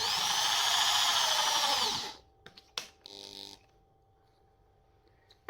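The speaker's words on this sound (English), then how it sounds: "I'm just going to drill a little pilot hole in first." A small pilot hole is drilled into the central logo of a Victorinox Work Champ pocket knife: a loud, steady high-pitched whine for about two seconds, then it stops, leaving a few faint clicks and handling taps.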